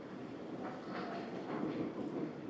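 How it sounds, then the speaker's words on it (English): Train arriving at the station in Lagos, Portugal, a faint, steady rolling rumble with soft rail clatter, heard at a distance with no talk. "here's the train"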